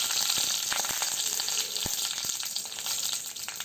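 Dried red chillies fry in hot oil for a rasam tempering, giving a close, continuous hissing sizzle scattered with small crackles and pops throughout.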